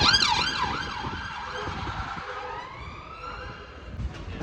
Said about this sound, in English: That's about the 26th flipping police car I've seen today.